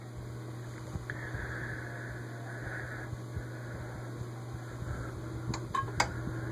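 A Vornado twin window fan runs with a steady low hum and soft airflow, with a few faint clicks and taps near the end.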